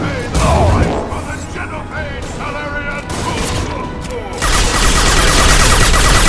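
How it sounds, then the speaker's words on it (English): Gunfire bursts from a Mass Effect 2 firefight on PC, sustained volleys and booms layered under game dialogue, loud and continuous with a heavier barrage near the end. "Taking heavy fire!"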